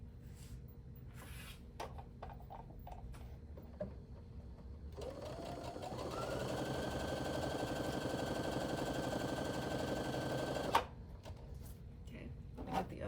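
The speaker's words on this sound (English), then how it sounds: "So I'm going to sew a rectangle on the side like this" A sewing machine runs steadily for about six seconds as it stitches a rectangle onto fabric, a close, even mechanical whir that stops abruptly, preceded by scattered light clicks and handling noises.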